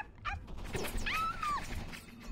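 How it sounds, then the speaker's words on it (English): A puppy whimpering and yipping in a few short high whines, close and moderately loud over a low background hum, no talking. "Oh, film a dog! It's a puppy!"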